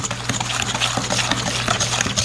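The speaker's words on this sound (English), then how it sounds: "now we'll whisk that around for a second" A whisk stirs brown sugar and granulated sugar in a bowl for cookie dough. Its quick, steady, scraping rhythm runs close and fairly loud for the whole stretch, with no talking.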